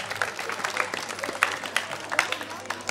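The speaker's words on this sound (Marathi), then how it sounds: "स्वतःसाठी जोरदार टाळ्या वाजवा एकदा." Children at a primary school clapping for themselves, a loose scattered round of claps with overlapping voices and crowd babble throughout.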